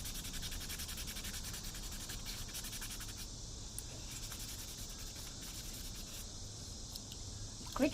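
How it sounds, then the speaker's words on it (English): Crickets or cicadas drone outdoors on a porch on an August night: a faint, continuous high buzzing chirr pulsing steadily throughout, with no voices. "Crickets? Cicadas?"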